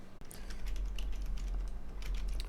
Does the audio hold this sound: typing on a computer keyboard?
yes